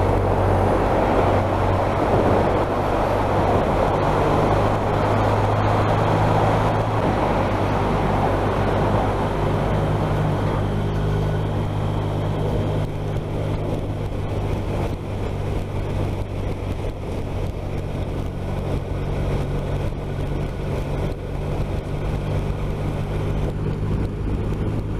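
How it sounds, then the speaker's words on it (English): A BMW R1250 RT motorcycle rides at night on a highway, a steady drone of engine and wind roar that is loud and continuous with no talking. "Normally I would never ride a motorcycle in the dark, but this is no problem at all."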